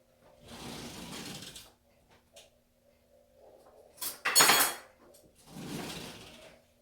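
Metal cutlery rattles and clinks as someone rummages through a kitchen drawer for a spoon, in three separate bursts, the middle one the sharpest and loudest, with quiet pauses between.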